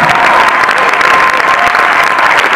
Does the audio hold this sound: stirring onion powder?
no